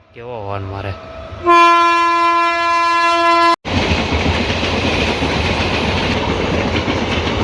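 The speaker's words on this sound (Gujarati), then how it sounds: "અરા કેવો હોર્ન મારે." An express train on the middle track sounds a loud, sustained horn for about two seconds, then its carriages roar past close by in a steady, heavy rumble.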